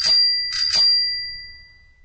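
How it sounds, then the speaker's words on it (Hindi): A bicycle bell rings outside at night in a village, giving three quick bright dings with a long ringing tail that fades away. No voices are heard. "तभी बाहर से साइकिल की घंटी सुनाई दी।"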